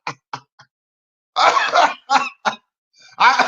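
A person coughs several times: three short, sharp coughs, then a longer harsh burst of coughing and a few more close, loud coughs, heard alone with no talk.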